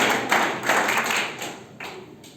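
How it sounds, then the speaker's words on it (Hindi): A student audience at an NSS orientation in Sagar applauds a student named Pawan, a burst of close, fairly loud clapping that thins out toward the end. "तो एक बार पवन के लिए फिर से ताली बजाइए"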